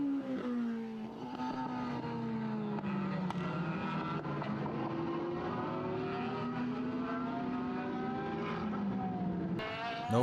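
Formula BOSS race cars lap Mondello Park in Ireland, engines screaming continuously as revs rise and fall through gear changes, several cars blending into a loud, steady roar.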